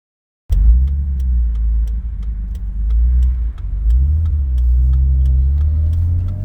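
A restored BMW E30 333i on a highway, a loud steady engine drone and road rumble from inside the cabin that starts abruptly and holds, with a brief dip and slight rise in pitch as it accelerates.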